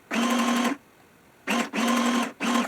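A sewing machine stitches a zigzag ruffle in short bursts: a rapid mechanical whirring run, a pause, then two more runs close together with a brief stop between, heard up close with no talking.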